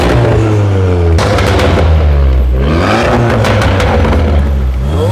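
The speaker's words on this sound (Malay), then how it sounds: "Kalau bunyi valve terbuka dia macam ni ya." A car with a stage 2 exhaust revs hard with its exhaust valve open: a loud, close, raspy roar climbs and falls in repeated bursts, with sharp crackling pops between the revs.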